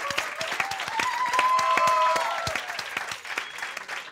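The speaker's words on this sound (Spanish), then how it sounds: "Un aplauso para Emily Bustamante y para Somaya Reese." Studio audience applauding television show guests, loud close clapping with distinct individual hand claps over a sustained crowd wash, plus a brief tonal whistle-like sound in the middle.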